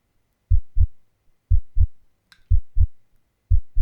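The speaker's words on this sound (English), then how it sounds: "I feel my heart pounding in my chest" Heartbeat sound effect: paired low thumps repeating about once a second, loud and close against near silence, with a brief faint higher click partway through.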